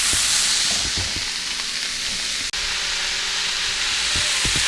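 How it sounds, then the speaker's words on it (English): Ground meat browning in a pan for spaghetti, with a steady loud sizzle and hiss running throughout, a few soft scraping knocks, and one brief break in the middle. "I'm browning the ground meat"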